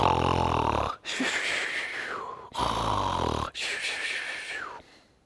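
A voice imitates loud snoring close up: two long snores, each a rough rasping inhale that turns into a whistling exhale.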